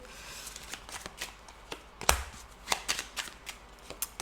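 Tarot cards being shuffled by hand during a reading, a close, soft run of riffling and slapping card sounds with a few sharper snaps, alone and without talk.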